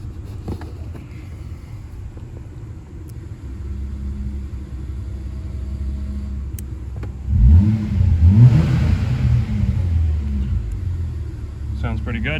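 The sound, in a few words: Volvo S60 revving with BadlanzHPE electric exhaust cutout open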